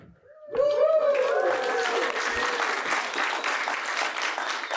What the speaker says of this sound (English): Yes, cue applause.